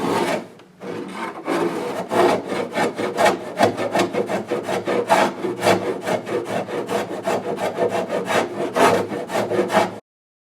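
A wooden door edge being planed down to fix a sticking door: a steady run of rapid, rhythmic scraping strokes, close and loud, continuing for about ten seconds with no talking.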